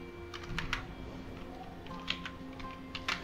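Quiet typing on a computer keyboard, with scattered clusters of soft keystrokes over a low steady background hum.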